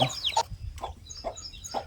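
A hen that is a half Kadaknath, half native country chicken crossbreed clucks close by, with a few quick squawks at first and then a steady series of short low clucks, no talking.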